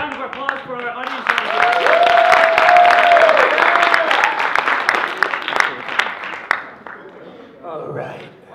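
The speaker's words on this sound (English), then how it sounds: "can we get one more round of applause for our audience?" Applause for a comedy show audience swells into a loud, dense round of clapping and cheering that fades after several seconds, with voices and a shout over it and talking at the end.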